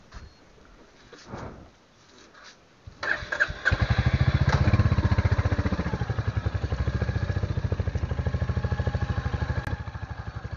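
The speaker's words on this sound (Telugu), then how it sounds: "బైక్ అయితే తీస్తున్నా సైడ్కి." A motorcycle is handled quietly at first, then its engine starts and settles into a loud, steady idle with a rapid chugging pulse close by. No voices.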